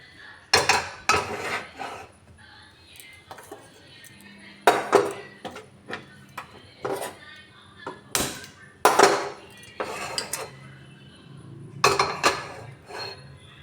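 Metal pots and a pressure cooker are handled in a home kitchen, producing irregular clanks, clinks and knocks, some sharp and loud, with quieter scraping and shuffling between them.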